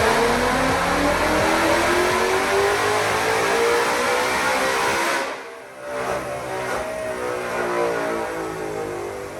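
A 2020 Ford Mustang GT500 strapped to a dyno makes a full-throttle pull, a loud, close engine whine climbing steadily in pitch, then a brief dip at the shift before the roar resumes.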